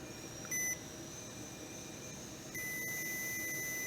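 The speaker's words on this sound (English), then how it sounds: "So that prolonged beeping means that it's working." Breathalyzer emitting a faint, steady high-pitched tone, interrupted briefly and resuming, over a quiet room hiss.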